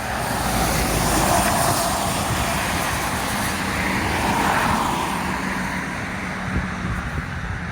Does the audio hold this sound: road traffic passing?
yes